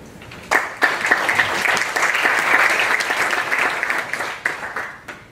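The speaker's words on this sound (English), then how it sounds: "we already gave a lot of applause to every member" An audience at an association meeting applauds its board, many hands clapping in a dense burst that starts with sharp individual claps, swells and holds, then tapers off near the end.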